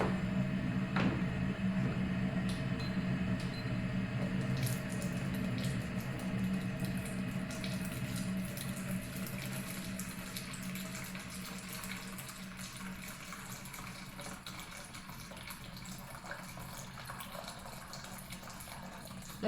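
Hot water pours steadily from an electric thermo pot's dispenser, a continuous liquid stream with a faint pump hum, close and fairly quiet, with no talk.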